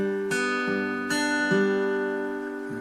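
Acoustic guitar notes picked one at a time in a slow, clear pattern, each ringing on under the next, close and alone.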